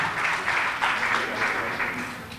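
Audience applause welcomes a guest at a public speech event with UP Minister Swati Singh, a dense, continuous wash of clapping from a sizable crowd, steady and fairly loud for a couple of seconds, with no voices over it.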